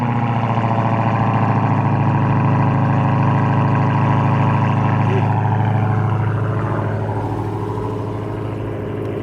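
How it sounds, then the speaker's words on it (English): A Dodge Hellcat V8 cold start settles into a loud, close, steady droning idle with a deep throbbing pulse, easing slightly in volume toward the end. "So quick cold start."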